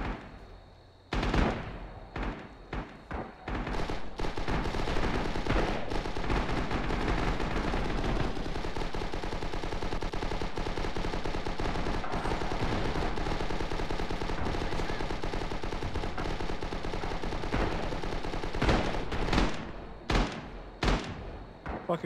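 Heavy automatic gunfire in a video game battle, with dense machine-gun bursts and loud continuous shooting for about twenty seconds and sharp separate shots at the start and end.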